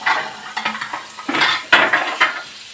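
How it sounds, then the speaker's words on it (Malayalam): Fish frying in a pan is turned over, giving clinks and scrapes of a utensil against the pan, with a light sizzle beneath. "മീൻ പൊരിച്ചത് തിരിച്ചും തിരിച്ചിടാൻ"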